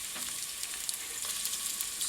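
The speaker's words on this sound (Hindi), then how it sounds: "सबसे पहले हम प्याज इस तरह से कटा हुआ डालेंगे" Thinly sliced onions frying in hot oil for a beef curry give a close, steady crackling sizzle with small pops throughout and no talking.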